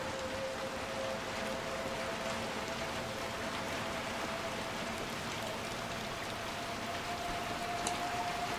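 Rain in the video game Little Nightmares 2 gives a steady, even hiss of falling water. It holds at moderate loudness throughout, with a faint tonal hum beneath it.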